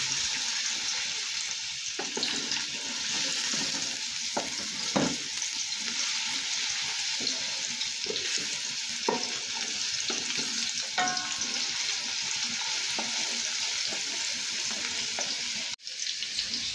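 Garlic and ginger fry in oil in a pan, a steady close sizzle throughout with occasional stirring scrapes and clinks, a spice-base step for a large batch of sarson ka saag.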